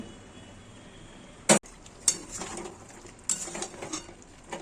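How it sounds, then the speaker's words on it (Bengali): Metal lid set onto a cooking pot of Bengali red chicken curry, one sharp clank followed by a few lighter knocks and rattles against a quiet background. "আবার 10 মিনিটের জন্য আমি ঢাকা দিয়ে দিচ্ছি।"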